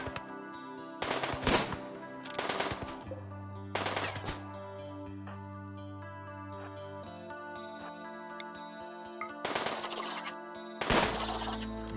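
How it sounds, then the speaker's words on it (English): Rattling volleys of gunfire in the video game RimWorld, four or five separate bursts spaced a few seconds apart, loud over sustained background game music. "Just some casual late night gunshots."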